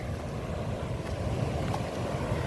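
Waves wash in at the mouth of George River where it meets the sea at Bathsheba, Barbados, a continuous low rumbling surf with wind buffeting the microphone, close and steady.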